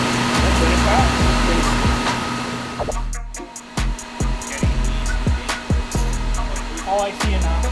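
A front-wheel-drive Ford Taurus SHO strains on a chassis dyno: a loud, steady engine drone at high revs, then a sudden cut near the midpoint, followed by choppy, stuttering bursts as the throttle is worked on and off.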